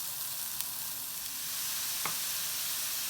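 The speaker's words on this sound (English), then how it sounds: "let it sear before I start breaking it up" Ground chuck patty searing in a hot pan, a steady low sizzle and frying hiss running throughout with a couple of faint utensil clicks.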